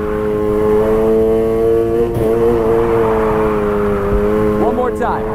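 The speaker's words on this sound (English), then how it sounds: "Then use the gas to power through." A car engine in Need for Speed Heat holds a steady high revving drone with strong harmonic whine, shifting slightly in pitch, loud and close, with a brief tire or mechanical transient near the end and a voice talking over it.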